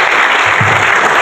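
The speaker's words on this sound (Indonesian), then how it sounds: "Kita sambut dengan tepuk tangan yang meriah" An audience at a state evening ceremony in Bitung, North Sulawesi, claps loudly and continuously in a dense, even wash of applause.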